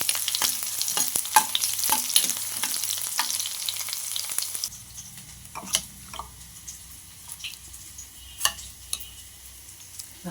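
Garlic stirred and turned in a hot pan for a Palakkad-style greens curry, with steady sizzling and a run of spoon scrapes and clinks, loud at first, then softer and more scattered.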